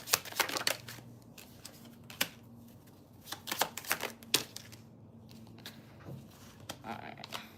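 Tarot cards shuffled and drawn during a live reading, producing brisk, repeated riffling bursts and soft slaps of cards, moderately close and fairly quiet, under a low steady hum.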